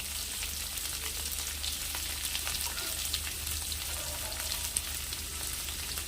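Salt, turmeric and cumin powder fry in a pan with chopped onion, making a steady, moderately quiet sizzle with faint crackles and light stirring, no voices over it.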